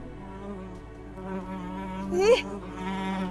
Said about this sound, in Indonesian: jam segini kok ada lalat?